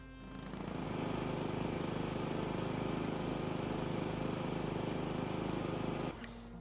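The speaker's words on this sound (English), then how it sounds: "Grab the lawnmower again." A lawn mower engine runs steadily at close range for about six seconds, a loud droning, chugging rumble that starts abruptly and cuts off near the end.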